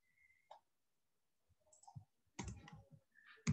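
Computer mouse clicks while running code in a programming tutorial, a scattering of soft, close taps and clicks with quiet gaps between them, no speech.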